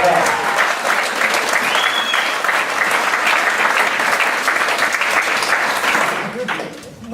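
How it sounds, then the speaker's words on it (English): Sustained audience applause at a comedy keynote event in Seattle, a dense, steady wash of many hands clapping that holds evenly for several seconds before thinning out near the end. "So let's give her a round of applause."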